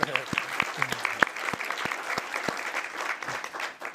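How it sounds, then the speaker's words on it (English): Applause from a school board meeting audience celebrating a high school's seven state distinctions, steady clapping throughout with a few sharp, louder claps standing out and some murmured voices underneath. "We can clap for all 7 distinctions."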